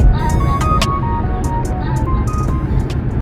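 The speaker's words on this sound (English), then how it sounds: "So excuse the noise, traffic going past." Traffic passes a large Tesco supermarket car park as a steady, loud roadside roar with a low rumble and a few faint whining tones, continuous throughout.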